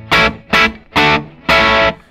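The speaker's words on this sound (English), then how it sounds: "Switching the pedal on with very little gain" Gibson Les Paul Jr. electric guitar played through a Xotic BB Preamp pedal at very low gain into a Fender Deluxe Reverb amp: four loud strummed chords with slight breakup, each ringing briefly, the last held longer.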